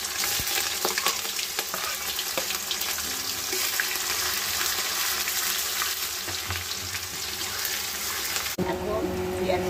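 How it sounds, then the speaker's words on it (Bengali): Onions sizzle steadily in hot oil and caramelized sugar in a kadai while an aloo dum is cooked, a dense continuous frying hiss close up with occasional stirring clatter, easing off near the end. "এখন পেঁয়াজটা মোটামুটি ভাজা হয়ে গেছে"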